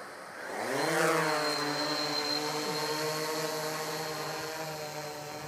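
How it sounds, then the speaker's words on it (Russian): A Blade Chroma quadcopter spins up its motors for takeoff in Angel mode, the whine climbing in pitch and swelling, then settling into a steady, close electric hum with no talking. "Итак, взлетаем в режиме Angel."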